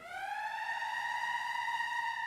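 A sustained alarm sample from the Northern Sounds Horizon Kontakt instrument rings out as one steady, bright, siren-like tone with rich overtones, holding evenly for a couple of seconds with no voices.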